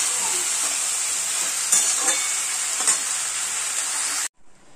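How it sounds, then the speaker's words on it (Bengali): Sliced potatoes and onions, seasoned with turmeric and a little salt, fry in a pan with a constant close hiss. A few scraping stirs break through before the sound cuts off abruptly. "যেহেতু পেঁয়াজ আর আলু ভাজা হচ্ছে।"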